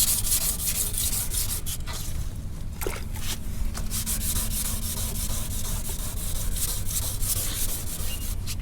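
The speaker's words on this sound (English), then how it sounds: "You can see that paint line with the overspray coming up real easy with this wet sanding with 400." Steady, continuous wet sanding of metal-flake car paint on a 1986 Chevy Monte Carlo with 400-grit paper, a close, even scrubbing sound with a low hum underneath and no speech.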